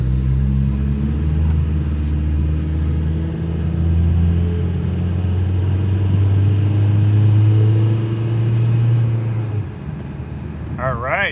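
Heard from inside, a Nissan Pike car drives along with a steady engine drone and road rumble that climbs gradually in pitch, then fades near the end as a brief high chirp appears.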